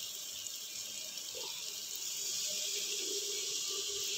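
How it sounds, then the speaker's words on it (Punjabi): Water is poured into a pan of frying onion, tomato, turmeric and chili masala, raising a steady, bright sizzling hiss that stays loud and even throughout, with no talking. "ਅਤੇ ਥੋੜ੍ਹਾ ਜਿਹਾ ਮੈਂ ਪਾਉਂਗੀ ਪਾਣੀ"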